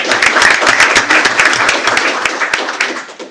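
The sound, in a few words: audience applause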